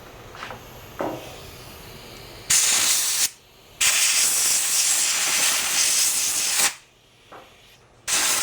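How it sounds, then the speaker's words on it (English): Compressed air hisses loudly through a Puch moped's air cleaner in several long bursts and a few short ones, with brief pauses between. "let me take and blow this guy out with compressed air"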